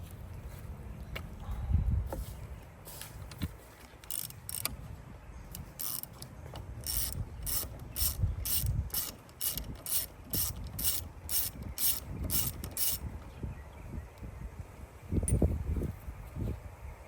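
A ratchet wrench clicks in quick bursts while rusted spark plugs come out of an old jon boat engine, with faint rubbing and handling noises between the runs of clicks.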